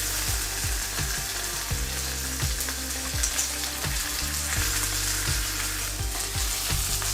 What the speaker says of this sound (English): All we had to do was to sear it.